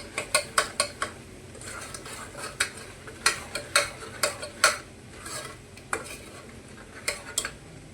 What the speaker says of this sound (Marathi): बघा तेल सुटलं आहे हे मसाले टाकू मिळवून देऊ